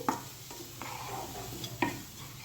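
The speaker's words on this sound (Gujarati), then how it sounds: "અને હવે આપણે બધું સરસ મિક્સ કરી લેશું અને થોડું ચડવા દેશું." Vegetables for street-style manchow soup stirred in a hot pan: soft scraping strokes and light utensil knocks repeat several times over a low steady sizzle, close and fairly quiet.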